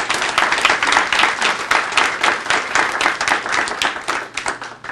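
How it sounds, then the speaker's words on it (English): A crowd at a community partnership event bursts into a lively round of applause for the chair, dense and fairly close, with no talk over it. "Can we give our chair a round of applause?"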